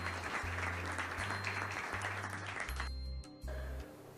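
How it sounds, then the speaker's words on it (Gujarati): Audience applause welcoming a guest at a graduates' association convention, a sustained, dense clatter of many hands over a steady low hum, thinning out slightly near the end. "સૌ તાળીઓથી વધાવી લઈશું"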